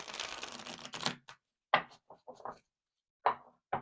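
A deck of tarot cards is shuffled by hand close up, a dense riffling burst followed by several short separate flicks and taps of cards, with quiet gaps between them.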